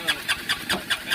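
A Honda car engine cranks after the key is turned, giving a quick rhythmic series of about five starter pulses, fairly faint and close.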